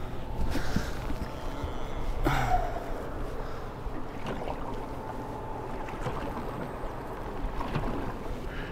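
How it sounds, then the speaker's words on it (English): A boat passing by on an estuary during fishing, its low steady engine rumble and water wash heard nearby, continuous throughout with a couple of faint knocks, with no talk. "Right, as the boat decides to come past."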